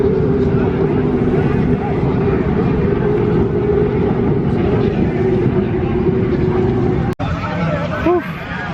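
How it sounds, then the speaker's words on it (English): Racing hydroplane boats speed across Lake Guntersville at a hydrofest, a steady distant engine drone carrying beneath crowd noise and nearby talk, broken by a brief sharp knock late on. "Those boats are absolutely flying."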